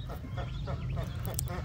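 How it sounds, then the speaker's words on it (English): A brood of five ducklings swimming and calling loudly, a dense run of quick, overlapping peeps and quacks that carries on without a break over a low constant rumble. "These five ducklings swimming. They're being really loud."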